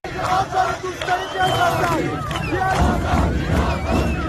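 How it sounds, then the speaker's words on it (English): A huge crowd in the streets of Tehran shouting and chanting together, dense and loud throughout with overlapping voices and rising cries in a continuous roar. "Huge crowd over there."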